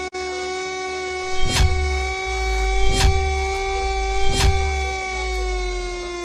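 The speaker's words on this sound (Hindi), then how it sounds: "अयोध्या में सायरन क्यों बज रहा है?" A steady, sustained warning siren wails during a blackout mock drill in Ayodhya, Uttar Pradesh, loud and constant with rich harmonics, broken by three sharp thumps at even intervals.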